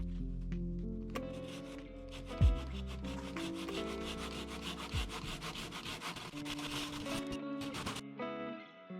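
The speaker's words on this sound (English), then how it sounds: "I cut into it with the saw." Handsaw cutting into a wooden pillar during demolition of an old Japanese kitchen, rapid rhythmic rasping strokes of teeth biting wood, close and fairly loud, with a couple of dull knocks along the way.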